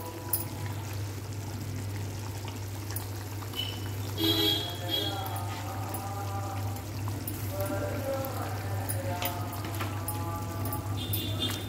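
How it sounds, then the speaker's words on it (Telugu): Prawns tipped into a simmering pot of prawn pulusu curry make a soft pouring splash and liquid bubbling over a steady low kitchen hum, with faint talk in the background. "ఈ స్టేజ్లో మనం రొయ్యలు యాడ్ చేసేద్దాం రొయ్యల పులుసుకి"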